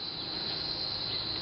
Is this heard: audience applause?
no